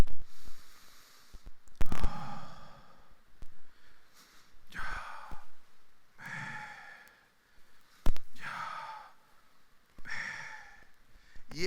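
A voice imitates breathing with slow, drawn-out breaths, several long audible inhales and exhales separated by short pauses, close and fairly loud.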